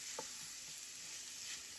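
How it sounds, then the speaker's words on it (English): Cut green shishito peppers sauté in a cast iron skillet, giving a faint, steady sizzle with a couple of soft stirring sounds and no voices. "I had some cut up green shishito peppers in my freezer, so I just took some of that out and I'm just sauteing that"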